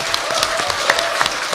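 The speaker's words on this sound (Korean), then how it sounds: "박수 한번 쳐주세요." Audience applause at a Gyeonggi Province policy debate forum, a dense, steady patter of many hands clapping at once, loud and close for a brief moment.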